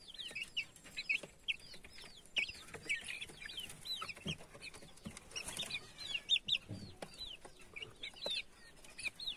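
Chicks and chickens being fed ground and whole corn fill the air with steady high peeping and soft clucking, many birds close by in a busy overlapping chorus without any speech.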